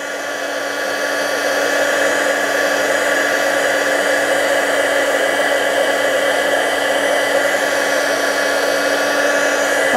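A heat embossing tool blows hot air with a loud, steady electric whir and hiss that starts up and then holds constant throughout, with no talking.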